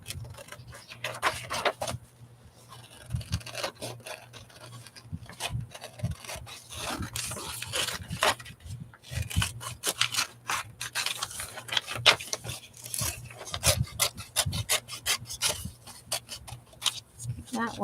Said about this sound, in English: Right, so I think we'll just fussy cut that, yeah?